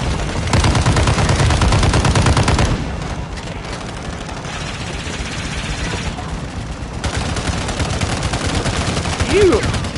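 Rapid automatic gunfire in the video game Warzone, dense bursts loud at first, then quieter sporadic shots, with occasional voices.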